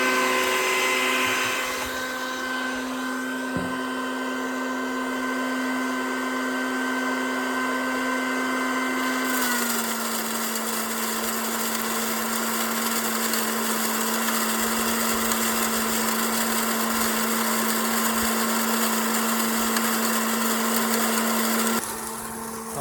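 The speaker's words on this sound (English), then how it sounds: "I just heard the grinder change sounds, and that means the hopper is empty, so I got to refill it" A feed grinder grinds non-GMO corn into chicken layer feed, a loud, steady mechanical drone with a constant hum that shifts to a different tone partway through and runs alone without voices.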